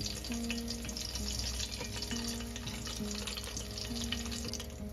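Tempura vegetables such as baby corn, okra and shiso leaves fry in oil heated to about 170°C, giving a steady, dense sizzle with soft crackling that runs continuously at close range.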